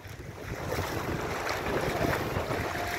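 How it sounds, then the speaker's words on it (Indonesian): Steady roar of very large waves crashing at Lake Poso, with wind buffeting the microphone, continuous and fairly loud, no voices. "deburan ombak-ombak yang sangat besar."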